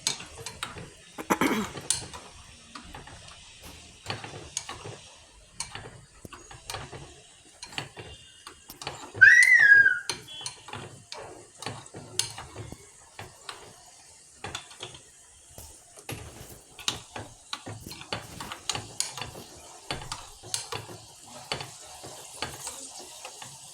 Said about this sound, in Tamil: இப்போ முந்திரி நல்லா வறு வறுபட்டுருச்சு திராட்சையை போட்டு எடுத்துக்கலாம்